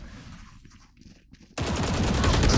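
Gunfire in a video game starts suddenly after a quiet stretch and runs as loud, dense rapid bursts of automatic fire to the end.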